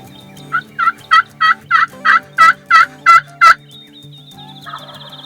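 A wild turkey gobbles from its roost in the morning, a rapid series of about ten loud calls, then birdsong continues faintly in the background.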